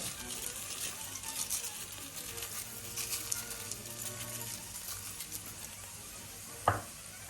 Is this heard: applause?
no